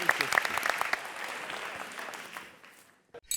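A crowd claps in brisk applause that gradually thins and fades out within a few seconds.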